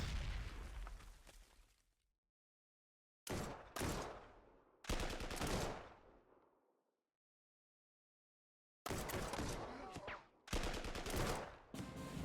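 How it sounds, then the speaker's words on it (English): Gunfire and explosions from the World War II strategy game Panzer Corps 2, set at Kharkov in 1942. Several loud bursts of booming fire come in clusters, each decaying away, with silent gaps between them and no talk. "let's get some suppressing fire"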